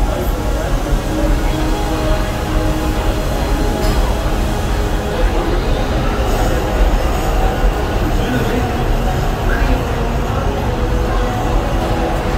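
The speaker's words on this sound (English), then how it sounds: "Locomotive maintaining trajectory." A Disney theme park train ride rolls along its rails with a loud, steady rumble of wheels and carriage noise, while a recorded announcer's voice speaks over the travel.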